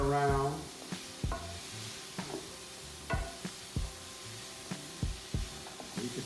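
Vegetables stirred in a sizzling skillet seasoned with smoky paprika, a steady fry under repeated scraping strokes of a utensil against the pan, close and moderately loud.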